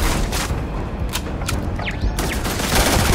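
Turrets open fire in Starfield, a dense fusillade of rapid shots and heavy booms over about three seconds, broken by short whooshing projectile streaks, with combat mechanisms rumbling underneath.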